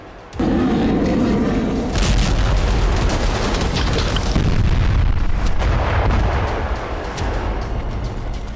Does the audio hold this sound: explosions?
yes